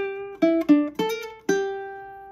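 A bright, high-pitched high-G ukulele picks out a short riff, five plucked notes each ringing briefly, played alone and close.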